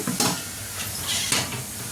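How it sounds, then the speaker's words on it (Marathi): Mustard seeds spluttering in hot ghee as a tempering for Gujarati kadhi, a close, steady crackling sizzle with a few sharper pops standing out through the short burst. "आता मी इथे दोन चमचे एवढी मोहरी टाकलेली आहे मोहरी चांगली तडकली की त्यामध्ये थोडेसे आपल्याला इथे जिरे टाकायचे आहे"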